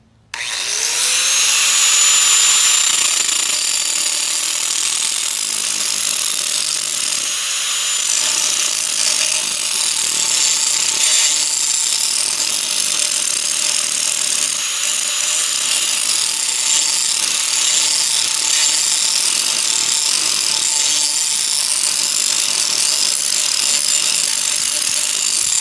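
Bench grinder sharpening lawn mower blades, a loud continuous high-pitched grinding whine that starts abruptly and holds steady throughout with a sustained tonal ring, no talking.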